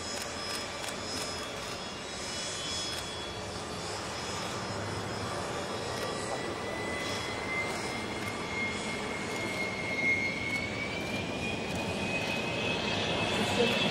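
A HondaJet jet aircraft taking off or landing at Nagoya Airport gives a steady, fairly distant engine roar that slowly swells in loudness across the whole stretch, with no voices over it.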